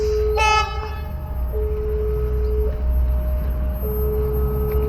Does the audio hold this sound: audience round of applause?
no